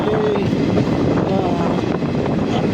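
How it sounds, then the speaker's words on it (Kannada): A train runs past close by near Alnavar railway station, a steady loud rumble of rail noise with a faint tonal whine filling the whole stretch, with no talk over it. "ಇದು ಮೋಸ್ಟ್ಲಿ ಯಾವುದೋ ಟ್ರೈನ್ ಹೋಗುತ್ತಿದೆ ಅನಿಸುತ್ತೆ"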